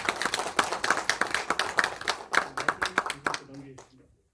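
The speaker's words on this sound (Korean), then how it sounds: "다시 한번 박수를 환영해 주시면 감사합니다" A modest audience at a Korean forum gives a round of applause to welcome a professor, distinct individual claps in an uneven rhythm that taper off and stop before the end.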